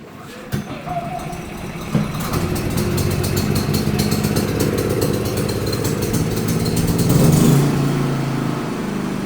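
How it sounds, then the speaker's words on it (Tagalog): A Philking PK4200ie2r generator catches after a recoil pull and settles into a loud, steady mechanical engine drone close by, with a brief clatter at the start and rattling texture over the running engine. "Sobrang bilis, sobrang dali paandarin ng generator na to."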